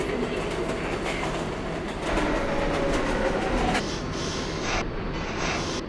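R142A New York subway car on a Brooklyn Bridge-bound 6 train running between 96th and 86th Street, with a steady loud rumble and rattle of wheels and car body, continuous throughout with faint brief squeals.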